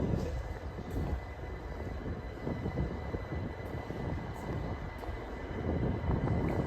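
At Heathrow, an inter-terminal transfer train approaches as a faint, steady low rumble and whir that swells slightly toward the end, heard from a distance inside the station.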